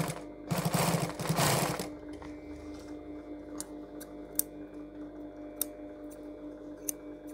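A sewing machine runs in a close, loud burst of stitching for about a second and a half while a zipper is sewn into trousers, then stops, leaving a low hum and a few sharp ticks.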